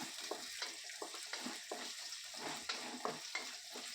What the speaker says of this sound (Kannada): ಈರುಳ್ಳಿ ಸ್ವಲ್ಪ ಫ್ರೈ ಆಗುತ್ತೆ